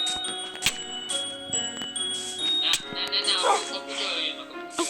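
A dog barks and whimpers in short yips over steady sustained background tones, with people talking throughout.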